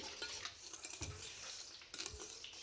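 A spoon stirs a mixture in a bowl, giving a quiet, close sequence of irregular scrapes and light clinks against the sides, with short pauses between strokes and no talking.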